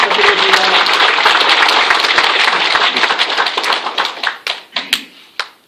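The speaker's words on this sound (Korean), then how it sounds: "큰 박수 부탁드리겠습니다." Loud applause from a seated audience at a Korean community assembly, dense clapping that thins toward the end into scattered, separate claps.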